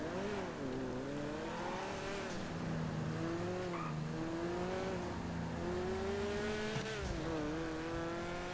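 A car in GTA V brakes with its tires squealing, the squeal wavering in long drawn-out tones over a steady engine roar, with no talk.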